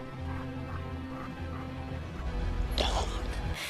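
A dog barks in a John Wick film scene, the yelps mixed into a dense, noisy soundtrack, with a louder burst of barking near the end.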